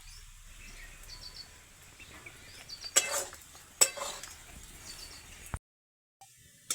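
Potatoes being stirred while sautéing in a pan for a sweet fasting dish, with faint scraping and clinking against the pan at a moderate distance, two louder stirring strokes, then a brief silence.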